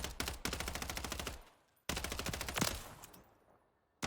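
Two sustained bursts of hipfire from an MTZ-556 rifle in Modern Warfare 3 Zombies, rapid evenly spaced shots, loud and close, each burst trailing off into a brief fade before the next.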